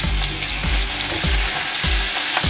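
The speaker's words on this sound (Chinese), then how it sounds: "用这个煸出来的油来煸香菇" Shiitake mushrooms frying in fat rendered from pork belly, a loud continuous sizzle and crackle with rhythmic stirring scrapes close to the pan, no talking.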